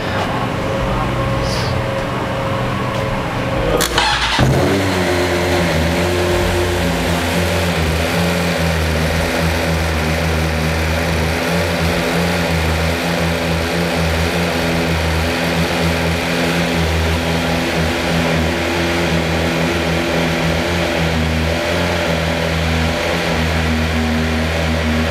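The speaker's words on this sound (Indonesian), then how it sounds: "Kita cold start BMW" A BMW M1000 RR motorcycle cold start: a sharp crank and catch, then the engine settles into a loud, steady, close idle with a stable droning tone that runs on unbroken.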